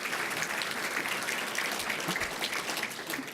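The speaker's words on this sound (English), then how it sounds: "Please give them a round of applause." Audience at the annual Municipal League civic awards ceremony claps steadily, a dense, even round of applause heard from a distance at a fairly low level throughout.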